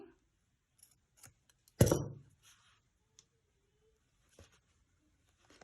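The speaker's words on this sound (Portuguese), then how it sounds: "e já vou cortar rente" Scissors give one sharp close snip through crochet yarn in a quiet room, with a few faint taps and rustles around it.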